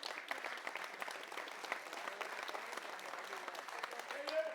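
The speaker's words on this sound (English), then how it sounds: "Give that guy a round of applause" An audience applauds a man during a live talk, a brief, even patter of clapping from many hands lasting about four seconds at moderate volume, with faint voices underneath.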